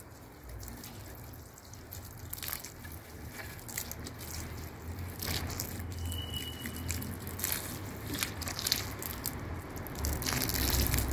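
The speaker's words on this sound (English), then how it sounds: "Now I will water the plant." Water poured onto a freshly repotted Dicksonia antarctica tree fern, a steady soft trickle and splash running throughout, close and moderately loud over outdoor background noise.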